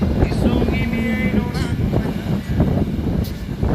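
Wind blows across the microphone on a beach on Egypt's north coast, a steady rough roar and buffeting that runs throughout, with a person talking over it.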